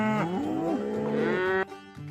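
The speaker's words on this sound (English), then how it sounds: "Cow." A cow gives one long, loud, close moo that rises and wavers before cutting off, followed by a brief, quieter low groan.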